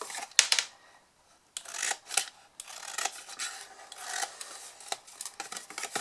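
Scissors cutting wedges out of tin sheet, a series of close, dry rasping snips and scrapes in irregular bursts separated by brief pauses.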